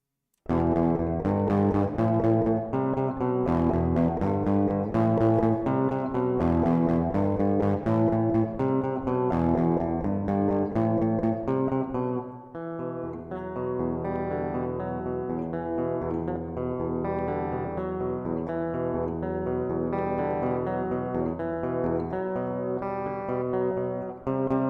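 A community-submitted song plays with heavily overdriven distortion, a dense, loud, continuous stream of music that shifts to a fuller, steadier section partway through.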